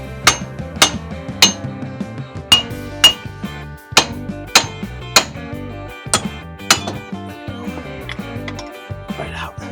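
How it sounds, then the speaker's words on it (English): A hammer strikes the steering knuckle of a Jeep Wrangler JK to pop the ball joints loose, giving a run of loud, ringing metallic blows at a fairly steady pace, close up and with no talk. "I'm going to hit on this knuckle from this other side and should pop these down."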